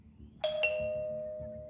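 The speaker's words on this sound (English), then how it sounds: "Next thing, I heard the doorbell go." A doorbell sounds once at a house front door in the evening: a bright, clear chime struck twice in quick succession, then ringing out and slowly decaying over a faint low hum.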